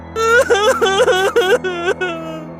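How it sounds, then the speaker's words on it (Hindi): A child crying in loud, repeated sobbing wails, close up, in a series of short bursts with a steady low hum beneath. "तभी टीना को किसी बच्चे के रोने की आवाज सुनाई दी।"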